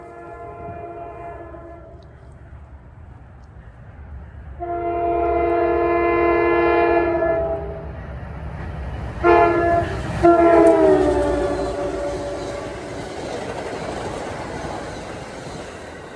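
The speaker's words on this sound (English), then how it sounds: "here comes train 51 bound for Port Jervis, the leader of the Port Jervis rush hour fleet" Train 51, a rush hour commuter train bound for Port Jervis on the ex-Erie main line in northern Bergen County, New Jersey, passes with long loud horn blasts over a steady rumble of rolling cars.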